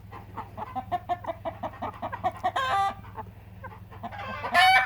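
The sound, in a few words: Americana chickens clucking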